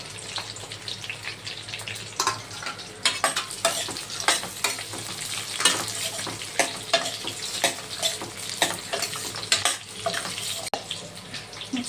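Chillies sizzling in hot oil in a pan, a loud, close, continuous crackle and hiss with irregular popping bursts and stirring scrapes running throughout, no voices.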